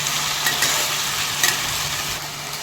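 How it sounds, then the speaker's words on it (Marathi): Tomato sautéing in a pan for prawn biryani, a dense, bright sizzle with a couple of soft stirring scrapes, near and loud throughout a short stretch. "हा आपण टॉमॅटो घेतला होता ते टाकणार मस्त हे मस्तपैकी छान मऊ होईपर्यंत परतून घेऊया"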